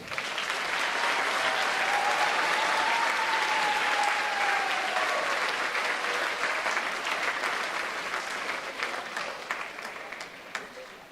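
Sustained applause from an audience at a high school academic award ceremony, loud and steady clapping from a large crowd that slowly thins toward the end.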